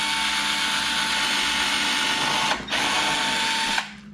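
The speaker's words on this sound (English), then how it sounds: "So we'll drill through this piece of wood here." A Milwaukee M12 cordless screwdriver whirs steadily at high speed while drilling through wood, dipping briefly near the end before cutting off.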